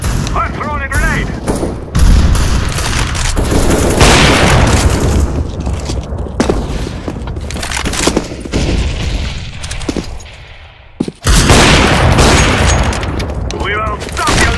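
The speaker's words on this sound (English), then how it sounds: "I'm throwing a grenade!" A grenade is thrown and bursts amid heavy CS:GO gunfire, with loud booms and rapid shots crowding together close up, broken by brief gaps and shouting players.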